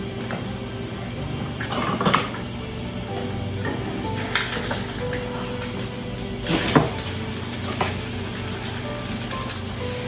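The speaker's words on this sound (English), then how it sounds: "Let me flip my eggs." Eggs frying in a pan sizzle steadily as a low, continuous crackle in a home kitchen, punctuated by a few sharp clinks and knocks of the pan and utensils as they are flipped.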